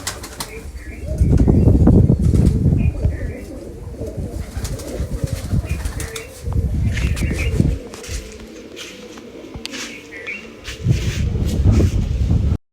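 Pigeons coo in a loft while wings flap in loud bursts, the beating flurries rising and falling over steady low cooing and some wind buffeting the microphone.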